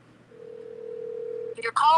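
A single steady voicemail beep tone holds for over a second on a phone call, then cuts off as a voice starts speaking right after.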